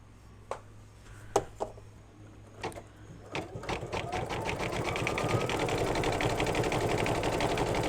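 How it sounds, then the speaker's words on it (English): An embroidery sewing machine stitching a zigzag along stripes: a few separate clicks and knocks first, then a rapid, steady mechanical stitching rhythm that builds and carries on near and clear. "Number 26 is going to be a darker green, and it's going to do a zigzag right along the stripes."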